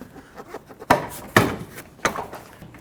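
Front bumper cover on a 2009-2014 Ford F-150 being pulled off, with three sharp plastic snaps and clunks spaced across a couple of seconds, close and fairly loud.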